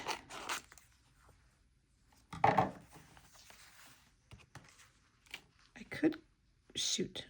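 Scissors cutting paper for a gluebook journal, with short crisp snips and rustling in scattered bursts, close by and fairly quiet.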